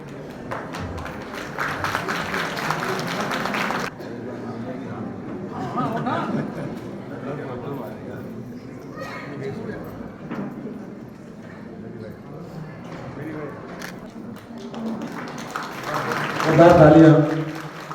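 Applause from an audience at the 27th foundation-day celebration of a social welfare society, a dense burst of clapping at the start that stays on under steady talk through the rest.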